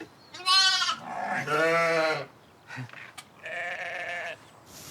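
Sheep and lambs bleat close by in a pen, with several long, quavering calls of varying pitch separated by short pauses and a brief rustle between them.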